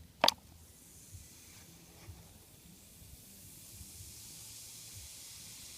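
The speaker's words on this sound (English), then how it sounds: "There's a bigger reaction, fizzing more." Orange soda fizzes after Mentos candy is dropped in, opening with a sharp brief hiss and then settling into a steady soft fizzing that builds slightly, heard alone at close range.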